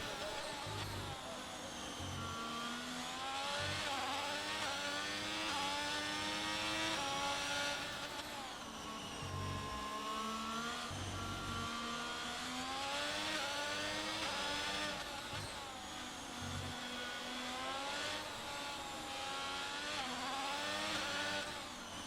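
Racing car engines howl in an F1 video game lap around Singapore: a near, continuous high-revving whine that rises and drops repeatedly through gear changes and corners, with a Red Bull car moving aside.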